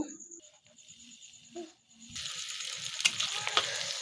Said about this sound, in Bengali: এটা আমি এখন কড়াইতে দিয়ে দিব